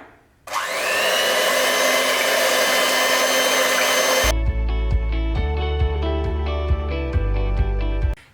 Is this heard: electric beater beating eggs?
yes